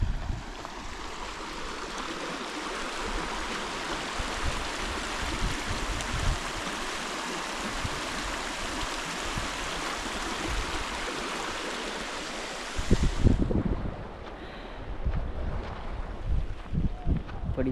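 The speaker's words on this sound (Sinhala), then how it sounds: "මාර ලස්සන වතුර පාරක් ගලාගෙන යනවා" A clear stream flows in Horton Plains National Park, making a steady, close, broadband rush of water that continues evenly, then shifts abruptly near the end, when a voice is briefly heard.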